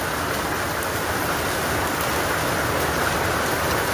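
Steady, dense rain pours down in a continuous hiss, loud and close, with no voices over it.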